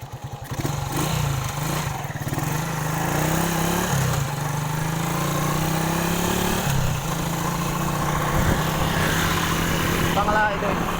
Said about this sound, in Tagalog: Magmotor tayo.